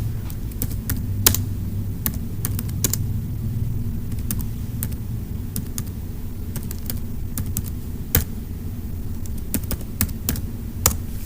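A web address is typed on a computer keyboard in a steady run of crisp key taps over a low hum, close and clear, with no talking.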